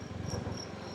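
Steady, dense insect chirring at night in Siem Reap, Cambodia, a continuous buzzing drone with no voices, moderately faint and filling the whole moment.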